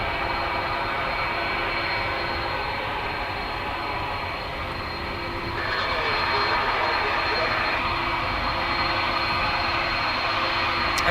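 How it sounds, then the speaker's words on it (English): A four-year-old Aer Lingus Airbus A330 jet departs Dublin Airport during reverse operations on runway 10R, its engines a continuous broad roar that swells slightly partway through, steady and fairly loud. "Aer Lingus A330"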